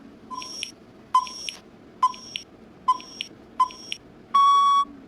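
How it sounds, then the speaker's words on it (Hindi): A software countdown timer gives five short, evenly spaced beeps about a second apart, then a longer sustained final tone, clear and alone over faint background noise. "अब यहाँ पर चल रहा है टाइमर"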